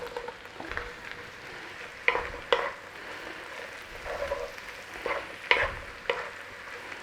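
Mushrooms fry in a buttery pan and are stirred gently, giving a steady soft sizzle broken by several close scraping and clacking strokes of a utensil at irregular intervals.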